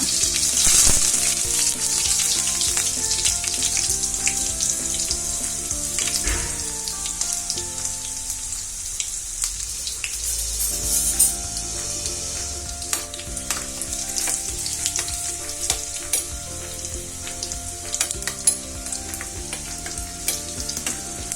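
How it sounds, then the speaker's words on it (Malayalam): Green chilies and curry leaves frying in hot oil as a tempering for dhokla, a loud continuous close crackle and sizzle with occasional stirring scrapes throughout, no voices. "ഇതിലേക്ക് പച്ചമുളകും അച്ചാമുളകും ഇട്ട് കൊടുക്കുക."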